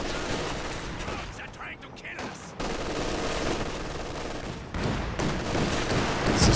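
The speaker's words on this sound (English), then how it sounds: "This is barrage coming in" Artillery barrage in Company of Heroes 2: a dense, continuous rumble of blasts and gunfire that swells louder toward the end, with no clear gaps between impacts.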